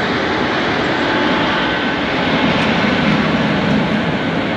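A České dráhy passenger train stands at a Budapest main station under a large iron train shed, heard as a steady, loud, broadband rumble and hiss that continues without a break and with no talk.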